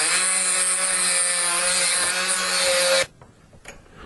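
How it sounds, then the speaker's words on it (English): A Dremel tool's cutoff wheel grinding through a lock washer on a car door hinge, a loud steady high-pitched whine held for about three seconds and then stopping abruptly, leaving a faint quiet room. "I'm probably just going to go ahead and zap it with a cutoff wheel on a Dremel tool"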